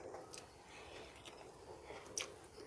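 Someone chewing crunchy okra from pinakbet, a Filipino vegetable stew, with soft close-up wet crunches and bites in an uneven rhythm, quiet and without talk.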